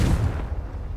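Confringo blasting spell cast in the video game Hogwarts Legacy, a single heavy booming burst that hits hard at once and then rumbles away over about a second, with no voice.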